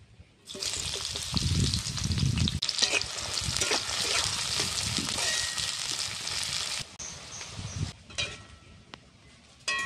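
Chopped onions hit hot oil left over from frying pointed gourd, bursting into a loud, steady sizzle that carries on for several seconds with occasional stirring, then briefly drops away before crackling again.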